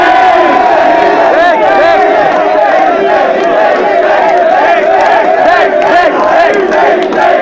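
Dense, loud crowd at a Brașov MC rap battle shouting and chanting a rapper's name, a continuous roar of many voices throughout with no pauses.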